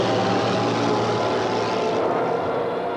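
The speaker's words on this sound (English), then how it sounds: "the vapor trails could be seen and the distant sounds of dogfights heard as the battle reached a climax over southern England" WWII aircraft dogfight over southern England during the Battle of Britain in August 1940: a continuous loud propeller-engine drone roars steadily throughout with no voices.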